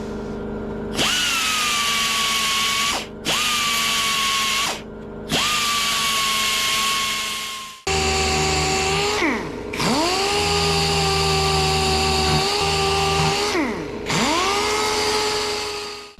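A belt sander works on a motorcycle part during a BMW adventure bike build, whining loudly in several separate bursts. Each run spins up and cuts off, and its pitch sags and recovers as the belt bites into the metal.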